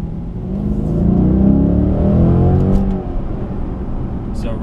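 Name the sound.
2008 Dodge Challenger SRT8 revving in first gear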